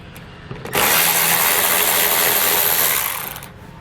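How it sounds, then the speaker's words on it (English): A ratchet or power tool with a 7mm socket backs out a cross-beam bolt on a 2019 GMC Acadia, giving one loud, steady whirring burst of about two and a half seconds that then fades. "each one will have a bolt that we'll remove with a 7mm socket."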